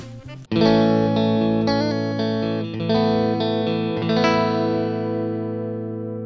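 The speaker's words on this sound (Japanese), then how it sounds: "アンプ固有のトレブリー感やブーミーな低音の癖を抑えた素直なクリーンサウンドですって書いてありますね" A sustained electric guitar chord rings out through a BOSS GT-1000 clean amp model, full and bright, then slowly decays with a touch of reverb.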